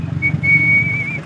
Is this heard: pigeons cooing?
no